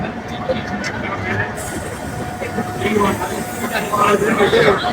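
The new LHB coaches of the Aranyak Express pull out of the station with a rumbling roll and hiss that grows louder toward the end, as voices talk over it.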